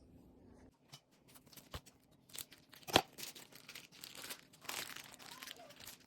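A pork loin is pulled from its plastic package, with close crinkling and tearing of the wrapping in irregular bursts and a few sharper snaps, alone without talk.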